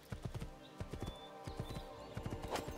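Horse hooves clip-clop in a steady, close rhythm on hard ground in Assassin's Creed 2, with a brief whinny near the end and no talk over it.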